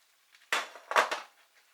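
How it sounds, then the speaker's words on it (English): Mushrooms dropped into a casserole pan give a couple of quick clattering, scraping hits against metal, close and fairly quiet, with no voices. "Now into that, I'm going to put the mushrooms. I'll just drop those all in"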